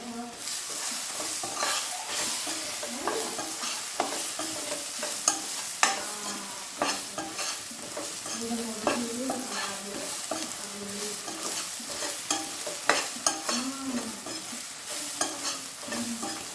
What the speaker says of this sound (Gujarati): આવી રીતના 2-3 મિનિટ હલાવતા જ રહીશું સતત ટમેટા અને હળદર